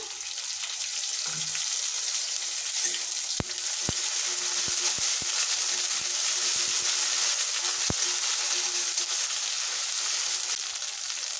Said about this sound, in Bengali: একটু ভালো করে নেড়ে নেব দিয়ে দিচ্ছি এক চামচ আদা বাটা